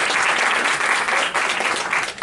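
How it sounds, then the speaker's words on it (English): A conference audience at a workforce association youth session breaks into applause, a dense, loud, sustained wash of many hands clapping together that holds steady before thinning slightly at the end. "Smile at them and give them a hand"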